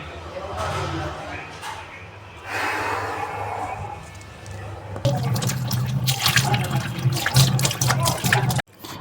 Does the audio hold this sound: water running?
yes